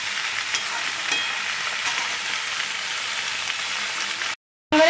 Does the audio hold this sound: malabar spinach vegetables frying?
yes